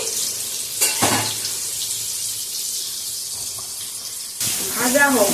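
Chopped onion fries in hot oil for a chicken curry, a steady close sizzle with a brief clatter near the start, and a voice speaks over it toward the end.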